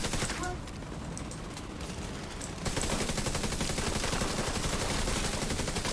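An automated turret in the video game The Division 2 fires continuous rapid bursts, a dense, loud rattle of gunfire that grows heavier partway through, with faint voices mixed underneath.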